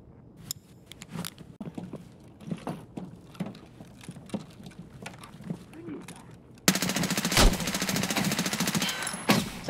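Rapid automatic gunfire crackles in bursts during an Escape From Tarkov match, sharp and close, shifting to a dense, sustained volley of shots in the final seconds.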